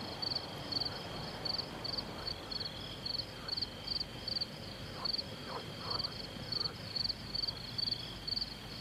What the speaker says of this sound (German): Aber das hier, das ist der Vorsänger, die Grille.